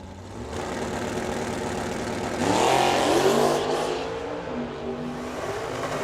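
A Mopar drag racing car sits at the start line at Firebird Motorsports Park, its engine idling with a rough rumble, then revving hard once before settling back down.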